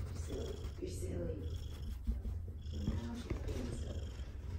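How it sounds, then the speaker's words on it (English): Low, rumbling purr of a shelter cat close to the microphone, steady and continuous with soft rhythmic pulses, while a person speaks quietly over it. "I don't know if you can hear the big purr."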